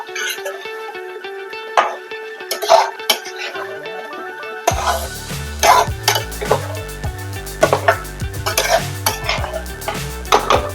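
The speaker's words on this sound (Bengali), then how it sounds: "দিয়ে এবার ভালো করে মশলার সঙ্গে কপিগুলোকে মিশিয়ে নেব।" Cauliflower and spices being stirred in a pan over low heat, with repeated clattering scrapes of a spoon against the metal over a soft sizzle, close and busy; a tonal musical backdrop plays underneath.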